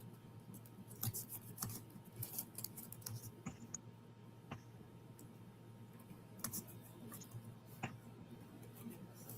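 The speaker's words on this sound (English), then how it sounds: "I'm typing." Fingers typing on a computer keyboard, irregular light clicks and taps, fairly faint over a low steady hum.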